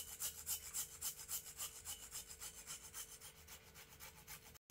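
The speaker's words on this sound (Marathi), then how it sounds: "आपला हा बीट मस्त छानपैकी किसून झालेला आहे" Beetroot is grated finely on a grater for paratha, making a steady rhythmic rasping scrape, stroke after stroke, close and continuous, with a brief gap near the end.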